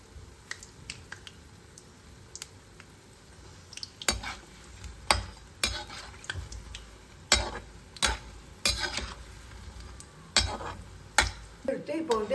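Bondas deep-frying in hot oil at a tea shop, a low bubbling sizzle running underneath while sharp clinks and scrapes of a utensil against the pan come at irregular intervals, growing more frequent toward the end.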